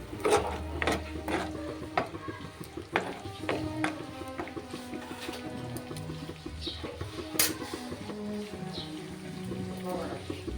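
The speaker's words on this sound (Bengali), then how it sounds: "তেঁতুলের পাল দিয়ে এবারও আমি নাড়িয়ে নিচ্ছি।" A spoon stirring sarpunti fish curry with tamarind pulp in a pan: irregular scrapes and light clinks against the metal over a soft bubbling bed, with someone talking throughout.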